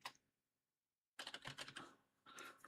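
Fast typing on a computer keyboard, a dense run of close, crisp key clicks after a brief quiet gap, pausing once and then resuming.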